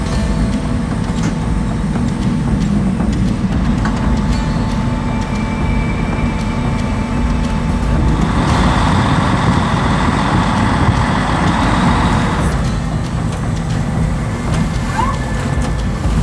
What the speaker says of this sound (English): 72002 hydraulic crane moves into action